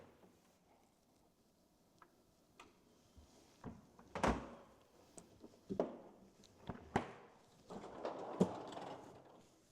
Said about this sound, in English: And then of course, your cafe refrigerator.